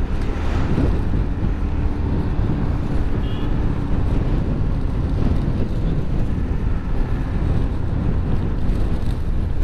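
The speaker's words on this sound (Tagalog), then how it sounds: "malakas na yung hampas ng hangin ah" Strong wind blows hard and steadily, a constant broadband roar with microphone buffeting that stays loud and unbroken throughout, no talking.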